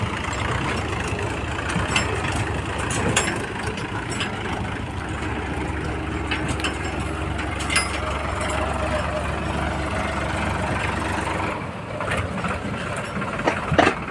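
A tractor arriving during manure loading on a farm, its diesel engine running in a steady, rough drone throughout, with people talking over the continuous engine noise.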